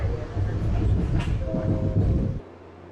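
A train rumbles steadily on the ride into Boston, with a rolling low roar and faint rail clatter that cuts off abruptly near the end; a voice is briefly audible.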